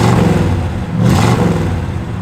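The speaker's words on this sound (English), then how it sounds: "Give it a rev, Dale." Close, loud 1968 Pontiac GTO engine with a deep, lumpy rumble, surging in a quick rev around the middle before settling back to a throbbing idle.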